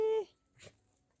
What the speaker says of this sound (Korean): 오 예뻐라 댕댕이